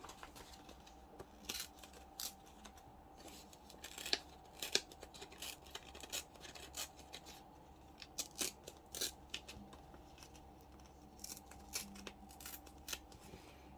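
Brown paper lunch bag torn by hand for a junk journal pocket, giving short crisp ripping bursts spaced with pauses, close and fairly quiet, with no talking.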